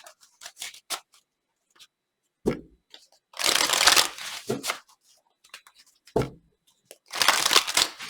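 Tarot cards being shuffled during a reading, several crisp riffling bursts and soft slapping taps in short irregular clusters, close and fairly loud, separated by brief quiet gaps.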